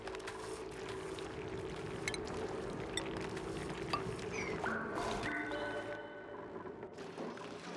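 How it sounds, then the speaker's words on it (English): Water being dumped inside a base in the colony game Oxygen Not Included: a steady, moderately quiet pouring wash that runs on throughout, with a few brighter splashy game tones near the end and no talking. "we're dumping some extra water in here"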